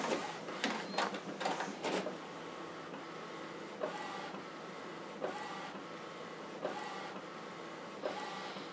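An Epson EcoTank 8550 printer whirs and clicks through its ink-installation routine, with a cluster of sharp mechanical clacks early on, then a steady motor hum broken by occasional louder clicks, close up and with no voices.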